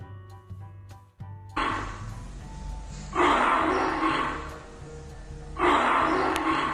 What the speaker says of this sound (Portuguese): É o leão.